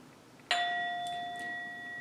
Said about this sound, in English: So I'll go ahead and ding the bell.